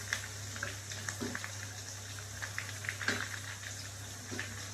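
Chicken pakodi pieces and curry leaves frying in hot oil at home, giving a low, steady bubbling sizzle with soft crackles and pops scattered throughout, fairly quiet and without any voices.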